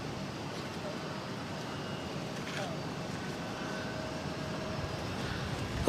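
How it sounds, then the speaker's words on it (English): A Korean Air Boeing 777-300ER in special livery arrives at Boston airport on a flight from Seoul, a steady, loud broadband jet roar that swells slightly toward the end. "This is Korean Air Flight 91 coming in from Seoul on a 777-300ER in the We Are Our Pride livery."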